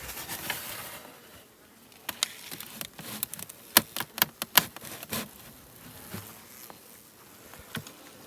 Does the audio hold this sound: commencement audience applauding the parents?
no